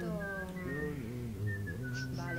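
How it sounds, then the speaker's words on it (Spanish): People whistle a wavering, sliding melody in a zombie survival video game, a continuous tune of rising and falling notes over a low background rumble. "¿Verdad? Están silbando."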